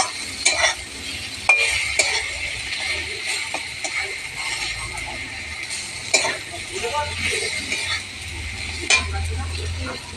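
Onions with turmeric, chilli, coriander and cumin powders sizzle in a pan while a spoon scrapes and stirs repeatedly, with clanks at irregular moments.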